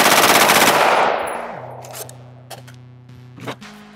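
An AR-15 rifle with a nitride treated barrel fires a loud, rapid full-auto burst at close range, then stops and is followed by a few mechanical clicks and clanks.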